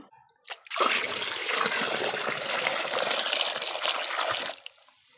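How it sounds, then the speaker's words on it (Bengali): Water poured into a container of rotted vegetable, onion and garlic peel compost on a rooftop garden to mix plant feed; a steady, close gushing pour of about four seconds, with no talk. "এখানে আমি একটু পানি মিক্স করে নেব"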